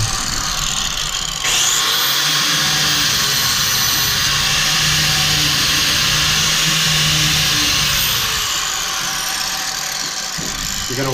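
A 4.5 inch angle grinder fitted with a chainsaw wheel grooves the lugs of a dirt bike tire, a loud continuous high whine with a rough grinding edge held for most of the stretch.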